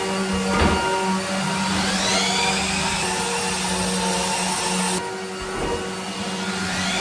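A drywall giraffe pole sander whirs steadily as it works across a wall, a constant loud motor drone with shifting pitch and a few knocks, no talking.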